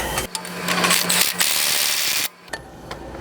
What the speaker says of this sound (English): just torque wrench again to get these three